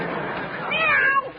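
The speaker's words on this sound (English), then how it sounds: "I didn't mean to step on your tail. Now, Scat Cat, scram, go, outside." A cat lets out a loud, drawn-out, rising and falling meow after its tail is stepped on, heard in a vintage radio comedy episode of The Great Gildersleeve.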